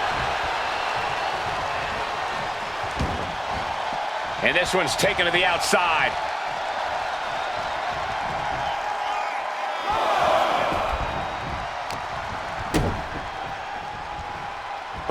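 Arena crowd noise in the wrestling video game WWE 2K25, a continuous roar with swells of cheering beneath a commentator's voice, plus a few sharp thuds from the ring.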